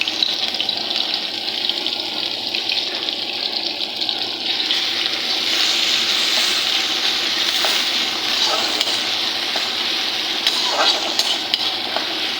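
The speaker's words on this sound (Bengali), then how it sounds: "পেঁয়াজ বাটা দিয়ে দিলাম" Onion paste sizzling in hot oil in a pan for a Bengali fish and potato curry, a steady close hiss and crackle with faint stirring that holds for the whole stretch.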